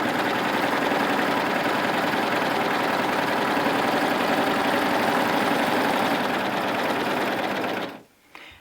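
A coverstitch machine runs steadily while stitching fabric, giving a fast, even mechanical whir held for about eight seconds before it stops abruptly, close and alone.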